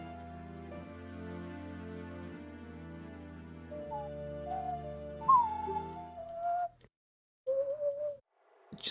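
A person whistles a slow, low-pitched tune over soft game music from Ocarina of Time, the whistled notes rising above the backing and ending after a brief silence.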